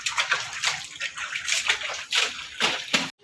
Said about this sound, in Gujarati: અહીંયા કિંજલ કપડાં ધોઈ રહી છે।